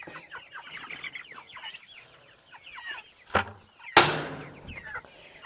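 Several chickens on a farm cluck and chatter steadily at close range, with a couple of sharp knocks or bangs near the end.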